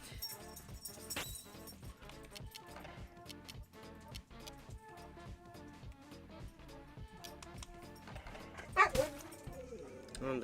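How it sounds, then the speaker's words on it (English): A dog named as a female pet yips and barks repeatedly in a rapid, uneven pattern, moderately faint, with a sharper burst near the end. "Oh, there's my dog."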